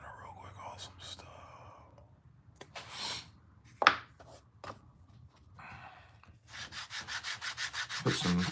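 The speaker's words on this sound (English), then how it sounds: "Put some fresh sandpaper on a couple of my sanding blocks" Sandpaper on a sanding block rubs across a knife-handle workpiece in short strokes and then in a steady series of rhythmic passes at the end, close and fairly quiet, with soft whispery talk earlier.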